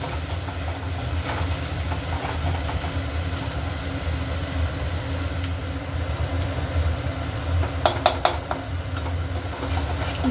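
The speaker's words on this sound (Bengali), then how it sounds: "ভালো করে একটু কষবো, আদার গন্ধটা যতক্ষণ না যায়।" Ginger paste frying and being stirred in oil in a pan while fish balls are being made, a constant soft sizzle with a few sharp spatula scrapes near the end.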